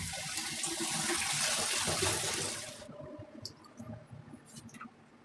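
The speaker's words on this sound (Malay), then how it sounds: "akak siram guna air" Strained sago pearls being rinsed with water, a loud steady pour and splash for about three seconds, then it cuts off leaving softer dripping and scattered wet clicks.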